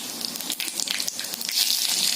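Mustard seeds, cumin and asafoetida sizzle in hot oil in a pan, giving a short, moderately soft, close crackling hiss with small pops and no talking.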